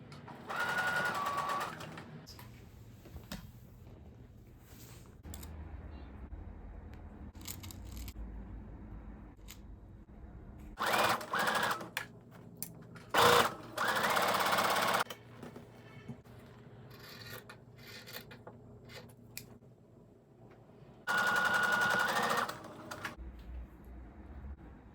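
A sewing machine stitching quilt pieces together for a baby quilt runs in short, loud bursts separated by quieter stretches of handling and rustling.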